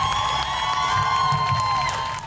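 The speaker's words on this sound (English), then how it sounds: "This crowd is fired up" A fired-up crowd at an abortion rights rally in the Carolinas cheers and whoops loudly and continuously, a dense roar of many voices with scattered shouts.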